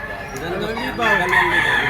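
An alimbuyugin Picom stag crows, a loud rising call that swells past the halfway point and holds, with crowd murmur in the background.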